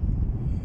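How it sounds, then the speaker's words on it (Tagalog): Strong wind on a rooftop buffets the microphone with a deep, continuous rumble, loud and close. "Grabe yung hangin dito sa taas."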